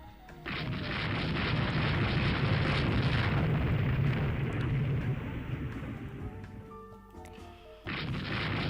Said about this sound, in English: Dulio class taking shell fire.